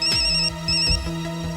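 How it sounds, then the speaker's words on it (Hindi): A phone ringtone plays a repeating electronic melody, loud and close, with no voices over it. "फोन का नाम लिया और फोन आ गया"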